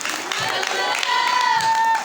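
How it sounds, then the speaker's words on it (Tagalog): A church congregation at an anniversary worship service clapping and cheering with shouted hallelujahs, a dense, loud burst of applause and voices throughout. "Pumalakpak at sumigaw ng hallelujah!"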